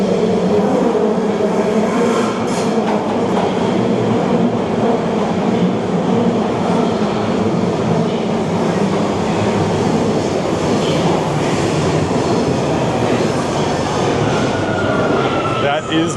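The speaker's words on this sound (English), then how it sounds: "That is my train if I can find a spot to get on." A commuter train in Japan pulls into a station platform, a steady loud rumble of wheels and motor with faint clatter and a rising squeal near the end, under low station ambience and distant voices.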